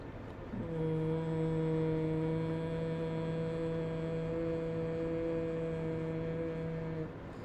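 One person hums a single long, steady, bee-like tone during a breathing exercise. It is close and even, lasts about six seconds and has no other sound with it.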